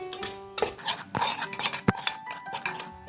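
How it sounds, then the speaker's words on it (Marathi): Spoon scraping and stirring dry ground masala paste as it sautés in a pan, with irregular close metallic clinks and scrapes in an uneven rhythm. "आणि हे पण आता छान परतून घेऊया."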